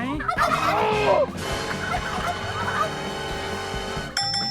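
Turkeys gobble loudly and repeatedly close by, overlapping calls with a few squawks, no talking.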